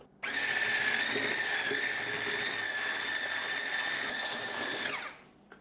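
Electric hand mixer whipping cream cheese with powdered sugar for a no-bake, eggless cheesecake, a steady loud whirring whine that holds for about five seconds, then winds down and stops, with no talking.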